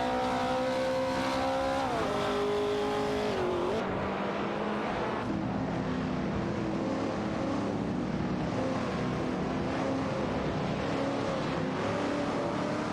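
Race cars in a video game, an Alfa Romeo GTAC and a Porsche 904 battling for position, engines droning and revving continuously with gear shifts and overlapping motors, loud and steady throughout.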